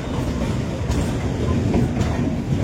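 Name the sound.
train pulling into Patna Junction station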